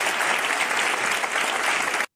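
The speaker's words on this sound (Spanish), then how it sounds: "El PSOE bueno estaba aquí levantándose a aplaudir a su líder." PSOE deputies in the Spanish parliament stand and applaud their leader, a dense, even wash of clapping that holds steady before cutting off abruptly.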